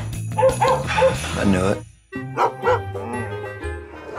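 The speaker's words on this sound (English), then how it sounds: "You got a dog in there?" A dog barks and whimpers in short yips beneath someone speaking, with music playing under both.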